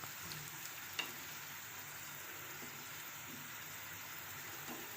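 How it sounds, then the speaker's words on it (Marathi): Potato slices frying Malvani style in a small amount of oil in a pan, giving a steady, soft hiss and sizzle with a few faint clicks from the utensil, quiet and without speech. "अशी आता ही दुसऱ्या बाजूने पण अशी परतवून घ्यायची आहे"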